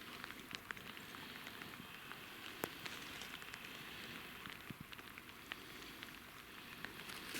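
Steady rain falling in autumn taiga along the Serga River, a dense continuous hiss of drops on surfaces with scattered sharper ticks, fairly close and unbroken throughout.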